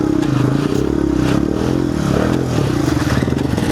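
A motorcycle stuck in deep river sand revs hard, its engine droning loud and continuous with wavering pitch as the rider tries to ride out of the hole, close up with clattering and scraping underneath.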